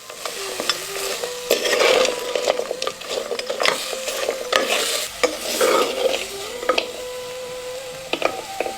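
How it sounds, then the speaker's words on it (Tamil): Mutton bones being stirred with rock salt and turmeric in a pan: repeated hard clacks and scraping knocks in an irregular rhythm, close and clear, with no talking. "கொஞ்சம் கல்லுப்பு, 1/2 தேக்கரண்டி மஞ்சள், ரெண்டையும் சேர்த்து எலும்பு நல்லா பெரட்டி விட்டுருவோம்."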